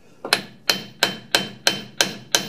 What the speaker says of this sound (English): Take a three pound hammer and you're just going to barely tap this in.